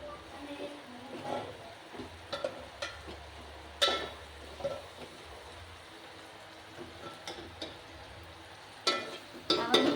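Vegetables sauté for veg pulav, with soft sizzling and scattered spoon scrapes and clinks against the pan, a few louder stirring knocks near the end, close by and without talk.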